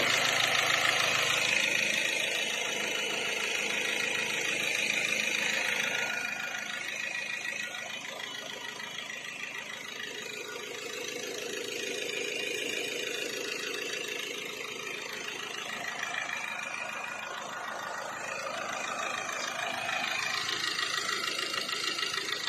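A 2017 Ford Ranger Hi-Rider pickup engine idles steadily for a long stretch, a continuous mid-pitched mechanical hum with a faint knocking texture, close and even in level without revving.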